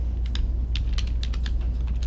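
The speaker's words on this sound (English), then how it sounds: "I'll just start typing" Rapid, uneven keystrokes on a computer keyboard tap out a short burst of text, close and clear over a low steady hum, with no voices.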